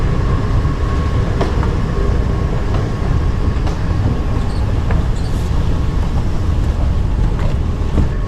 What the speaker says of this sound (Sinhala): රයිට් අපි මෙට්‍රෝ ස්ටේෂන් එකට ආවා මැක්ස්.